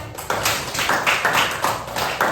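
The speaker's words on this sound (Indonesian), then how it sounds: "Tepuk tangan." Students in a classroom clap their hands together in a rhythmic pattern, about ten bright, sharp claps in groups, loud and close with no talk.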